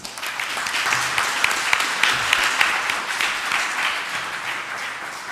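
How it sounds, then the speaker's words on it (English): Conference audience applauding the speaker at the close of a session, a steady, dense round of clapping from a full room that holds evenly for several seconds. "let's invite all of you to give the last applause to the speaker of this section"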